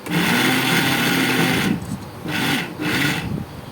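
Coconut being crushed in a mixer grinder for a dried shrimp and coconut chammanthi, a loud continuous motor whir with gritty grinding that stops briefly twice in short pulses.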